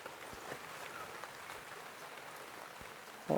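Rain falls as a soft, steady patter with a few scattered louder drops, faint and alone, before a brief louder burst right at the end.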